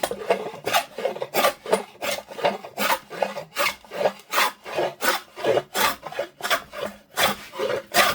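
A homemade scrub plane shaves wood to make a faux barn wood finish, sounding as about fourteen evenly spaced rasping strokes, each a close, loud swish, with no talk.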